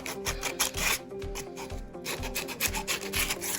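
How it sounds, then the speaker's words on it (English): Hand sanding strips old stain and finish from a thrifted wooden table, a steady rhythmic rasping with repeated back-and-forth strokes, close and continuous with no talk. "I'm just gonna start sanding all of this off. All of this old stain and color and like that finishing touch on top of it."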